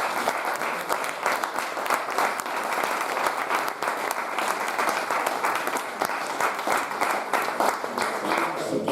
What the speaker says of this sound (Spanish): despedirte con un gran aplauso por parte de todos